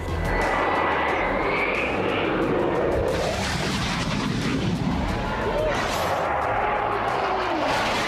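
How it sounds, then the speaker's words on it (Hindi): An Israeli fighter jet roars low over Beirut, a loud continuous rumbling engine roar that holds steady and swells with broadband noise throughout. "इजराइल के फाइटर जेट से जानबूझकर बेरूत के आसमान में तेज आवाज निकाल रहे थे।"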